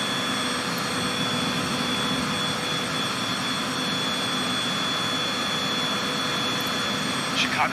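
A Cessna light aircraft engine drones steadily from inside the cockpit, a constant close hum with high tonal whine, and a voice speaks briefly over it.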